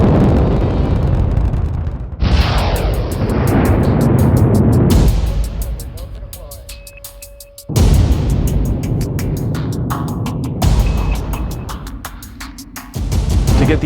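A NASA SLS rocket launch roar: a loud, dense, continuous rumble that drops away around midway and then surges back at full power.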